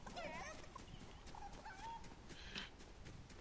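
Chicken clucking in the video game Fortnite, several short squawky clucks scattered through a few seconds over faint game background noise.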